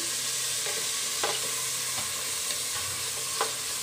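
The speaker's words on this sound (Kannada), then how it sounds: "ನೋಡಿ ಫ್ರೆಂಡ್ಸ್, ಈರುಳ್ಳಿ ಫ್ರೈ ಆಗಿದೆ. ಇವಾಗ ಟೊಮೆಟೊ ಹಾಕ್ಕೊಳ್ಳಿ." Onions with tomatoes fry in a pan, giving a steady loud sizzle with a few soft stirring clicks and no voices.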